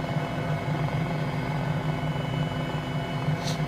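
Helicopter motorbike in Microsoft Flight Simulator, an MD 500E-type rotor engine, giving a steady droning hum with a throbbing low pulse, constant and unbroken throughout.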